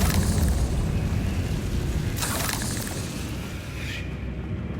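A Confringo fire spell explodes in Hogwarts Legacy, a loud booming burst with a rumbling tail, a second sharp crackling flare midway, then the blast fading away.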